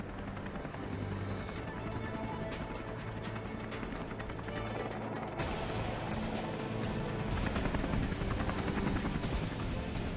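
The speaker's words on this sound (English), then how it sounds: "The helicopter returns and picks them up." A rescue helicopter for an injured snowmobiler fills the air with steady rotor roar and turbine whine, growing a little louder toward the end, with no voices.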